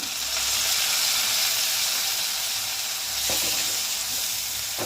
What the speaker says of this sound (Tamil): வெங்காயத்தை சேர்த்த உடனே அதை ஒரு கிண்டி கிண்டி விட்டுக்கலாம்